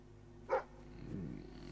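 A dog in Fable III gives a single short, close bark followed by a low growling rumble, faint against quiet game ambience.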